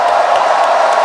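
A large crowd at a Democratic Party national members' convention roars with steady cheering and applause for a singer, a loud, unbroken wall of noise with scattered whoops.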